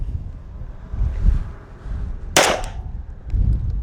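A single sharp gunshot fired at a shooting target outdoors, loud and close, standing out over a low rumble of wind buffeting the microphone.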